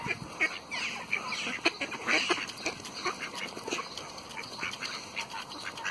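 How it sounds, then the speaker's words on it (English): Ducks being fed by hand, giving repeated honking quacks and squawks from several birds close by, fairly faint and busy, with no talk over them. "Feeding ducks. It's fun feeding ducks."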